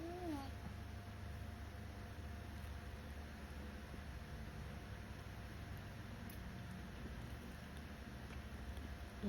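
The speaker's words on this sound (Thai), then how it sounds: "เหมียวเหมียวแล้ว" Tiny kittens from a litter of five give a couple of faint, brief meows at feeding time, then fall quiet under a soft background hiss.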